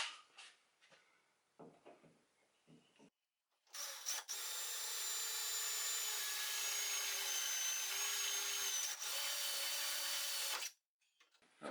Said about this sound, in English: So let's get to drilling the first hole.